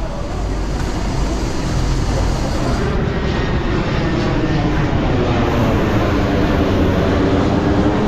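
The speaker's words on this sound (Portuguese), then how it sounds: "Barulho de avião" A loud, continuous roar of a jet airplane passes overhead during a running race in Rio de Janeiro, a broad rumbling drone that stays strong throughout with faint voices under it.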